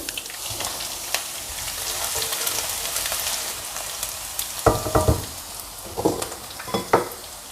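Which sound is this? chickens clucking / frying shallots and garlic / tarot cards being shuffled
frying shallots and garlic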